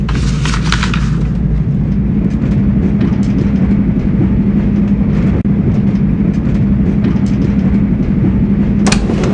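A passenger train rolls into Salzburg station, a steady loud rumble of wheels and carriage noise with rail clatter throughout and a sharp metallic screech near the end.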